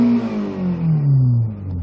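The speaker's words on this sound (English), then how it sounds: "the engine sound is very strong and the RPMs go up very smoothly and very fastly" A used Hyundai Click's engine revs hard under acceleration, a strong rising whine climbing steadily in pitch over about two seconds, loud and close with no talk.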